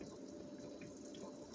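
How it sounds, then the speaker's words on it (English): Shakshouka sauce simmering in a pan gives a steady, close wash of soft bubbling and popping that runs without a break, with no voices over it. "Now you can see the amount of bubbling we got going on here."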